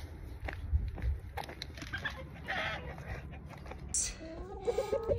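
Backyard chickens clucking in a homestead coop behind an electric fence, a few soft, scattered clucks and murmurs at close range, with some brighter calls near the end over low background noise.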